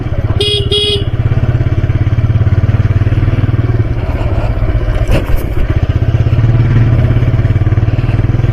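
A motorcycle engine hums steadily and close while riding along a rural road, with a brief horn honk near the start and passing clatter midway.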